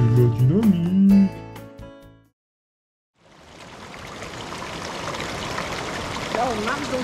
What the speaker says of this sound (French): Là, on marche dans une rivière en fait.